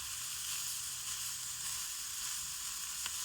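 Previously boiled chicken and chopped onion warm in a pan with a steady, soft sizzle. The sound is close and alone, and a small tick comes near the end.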